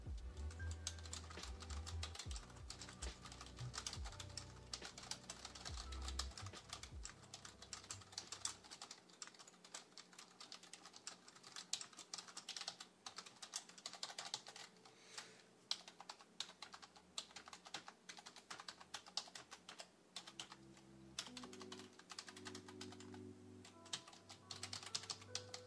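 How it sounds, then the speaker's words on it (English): Steady, fast typing on a Dell computer keyboard, close and clear, with continuous clicky key strikes and no talking. "we're just gonna do a really short typing test. So you can get a sense of how these keys sound."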